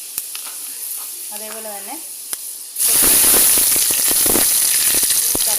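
Fenugreek seeds hit hot oil that already holds mustard seeds for a mango curry, setting off a sudden loud, steady sizzle with crackling pops partway through. A voice speaks briefly just before.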